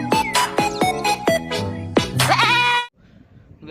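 A sheep with a full fleece bleats repeatedly at close range, with several quavering calls in quick succession before falling quiet.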